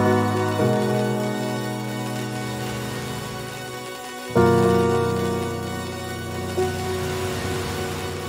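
Piano intro of a remix, with sustained, echoing chords ringing out and then a stronger new chord entering midway, all washed in trailing repeats, full and close without voices.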